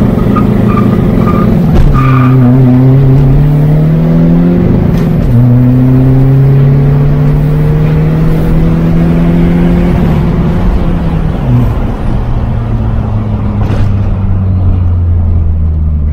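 A Volkswagen Golf IV 1.9 TDI tuned to 300 hp launches from a standing start. A loud engine roar climbs through several gear changes with rising and falling pitch sweeps and a brief tire chirp, heard up close with no talking.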